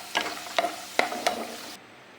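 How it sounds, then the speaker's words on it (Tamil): Semolina roasting in ghee in a pan, a quiet sizzle under four sharp scraping stirs spaced about half a second apart before it cuts off. "இந்த ரவையை வறுத்து எடுத்துக்கலாம். இந்த நெய்யில் வறுக்கும் போது பார்த்திங்கனாக்கா நல்லா வாசனையாகவும் இருக்கும்"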